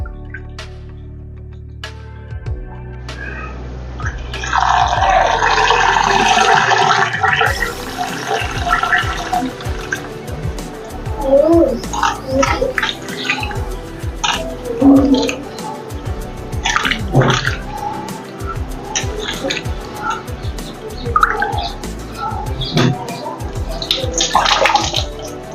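Sago pearls washed by hand in water: splashing, swishing and sloshing close by, with dripping and pouring as water is stirred and drained, while a person talks at times.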